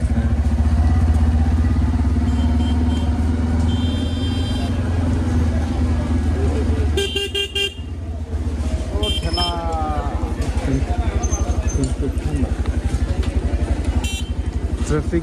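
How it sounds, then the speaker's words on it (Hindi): Busy evening road traffic beside a weekly market in Karbi Anglong, with motorcycles and cars idling and passing close by in a steady rumble, brief horn-like tones, and people talking throughout. "ट्रैफिक है दोस्तों"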